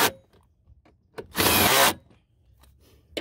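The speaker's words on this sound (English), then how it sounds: "go ahead and screw them all down." A power tool runs down bolts during a headlight install on a 1999-2004 Ford F250/350 pickup, giving one loud half-second burst amid faint clicks and handling noises.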